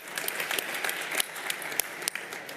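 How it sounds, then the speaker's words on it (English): Dense audience applause, many hands clapping steadily at moderate volume, with a few sharper claps standing out. "give another very big round of applause"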